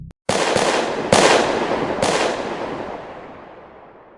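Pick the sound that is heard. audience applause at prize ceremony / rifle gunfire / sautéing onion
rifle gunfire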